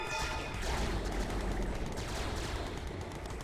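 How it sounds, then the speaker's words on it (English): Sustained rapid gunfire from units in the real-time strategy game Red Alert 2: Yuri's Revenge, a dense and continuous crackle of overlapping shots at steady volume with no pauses and no talk. "Now it starts shooting."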